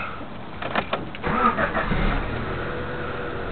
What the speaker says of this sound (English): Now I'm going to restart the engine.